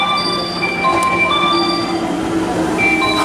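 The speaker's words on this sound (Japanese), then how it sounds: "到着したのは快速電車京都駅です" A Kyoto-bound rapid train arrives at Arashiyama station with a loud, steady rumble and thin metallic wheel squeals ringing on and off over it.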